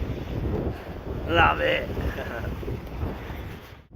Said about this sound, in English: 18 knots in the harbour. So, a bit blowy.